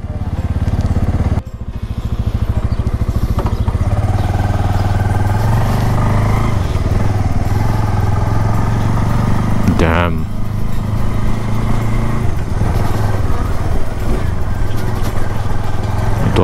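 Bajaj Avenger 220 Cruise motorcycle, a BS6 model, rumbles steadily while being ridden, a low loud engine drone holding throughout with a brief rise around the middle, with wind noise and a rider speaking over it.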